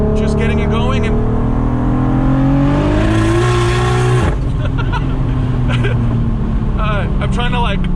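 A 1265 HP Audi RS3 running 50 psi of boost pulls hard through the gears, its engine note rising loud and close, then dropping with a sharp shift before climbing again, while a voice talks over the roar.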